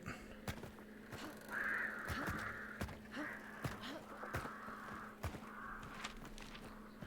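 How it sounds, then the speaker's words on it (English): Crows from the video game Hunt caw repeatedly in a series of harsh, fairly distant calls, mixed with sharp thuds and clicks of running footsteps over a low steady hum. "You're going to run into some crows now."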